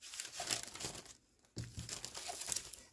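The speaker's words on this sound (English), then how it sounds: "I'm just throwing all my cards." Pokémon trading cards are tossed and shuffled, producing soft, close crinkling and papery rustles in two bursts separated by a brief quiet gap.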